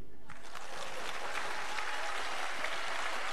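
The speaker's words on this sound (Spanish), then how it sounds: "Fuerte aplauso para Achille" Sustained audience applause at a left-wing political event on the future of Europe, loud and continuous throughout, with dense clapping filling the whole stretch and no talk over it.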